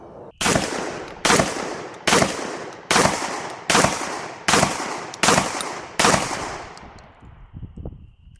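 A Mossberg 940 Pro Tactical SPX shotgun fires eight loud, sharp blasts in a steady rapid rhythm, each report ringing out briefly before the next.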